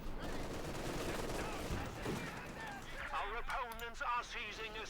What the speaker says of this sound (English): we got a lot of Americans with a lot of guns firing on them